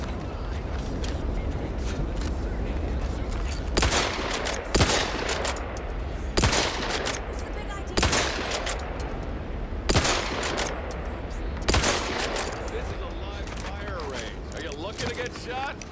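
Gunfire in the video game Outer Worlds 2, several loud bursts of rapid shots spaced a second or two apart, with voices talking between and under them.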